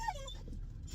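A dog whimpers in a short high whine at the start, followed by a low rumbling background with no speech.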